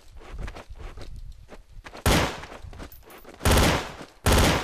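Pistol gunfire in Counter-Strike: Source, with footsteps and game clatter, then three sharp, loud shots spaced about a second apart near the end.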